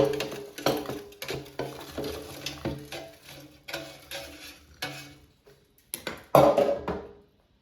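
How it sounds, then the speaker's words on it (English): Crispy, browned frozen tater tots are shaken from an air fryer basket, producing a series of light rattling and clattering bursts with short gaps, ending in one louder tumble. "Let's take them out of the air fryer."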